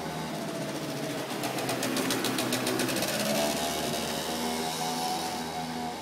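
A motorcycle passes by at a distance, its engine drone swelling and then fading under a steady background hum, with no voices.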